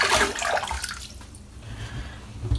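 Warm water splashed onto the face before a wet shave: a close, rushing wash of water with slapping splashes that is loudest at the start, then eases into softer sloshing.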